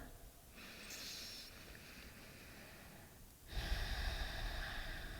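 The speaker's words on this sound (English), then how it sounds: "This type of breathing that we're doing right now is called Ujjayi breath." Ujjayi yoga breathing through a slightly constricted throat, soft oceanic hissing inhales and exhales, two long airy breaths close to the mic at low volume.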